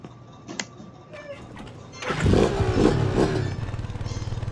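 Motorcycle engine in the open-world game Gangsters New Orleans, starting up and revving into a loud, steady, buzzing idle after a quieter stretch with faint talk.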